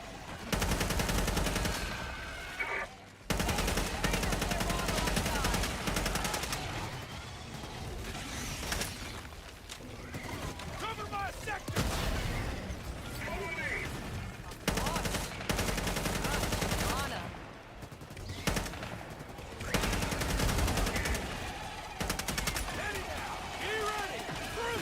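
A machine gun sentry fires in a video game, rapid bursts of gunfire rattling repeatedly over about twenty-five seconds with short pauses, a voice talking over the shooting.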